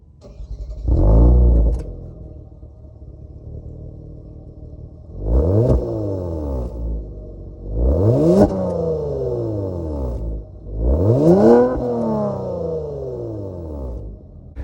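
A 2022 Kia Stinger GT1 with a 3.3 liter twin turbo V6 starts with a loud burst, then settles to idle. Three sharp revs follow, each rising and falling away, close by with no talking.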